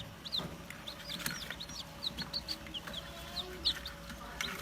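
Newly hatched chicks peep in a rapid series of high, thin chirps from a chicken-egg incubator (model D84), steady and fairly close over a low hum.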